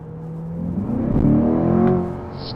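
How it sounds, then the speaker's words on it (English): A 2023 Corvette C8 with the Z51 performance exhaust revs up, its engine note rising and swelling loudly before easing off, heard alone in a street driving setting. "The Z51 Performance Package gives the C8 the performance exhaust, which adds 5 extra horses and a lot more noise."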